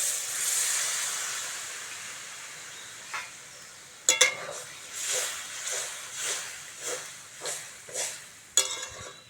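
Water poured into a hot pan of spices, potato and papaya produces a loud sizzling hiss that fades away, followed by a series of quieter stirring scrapes and bubbling pulses.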